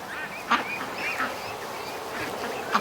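Ducklings in an outdoor pen call out in a few sharp, panicky peeps and quacks over a steady background hiss on a calm evening, with no talking.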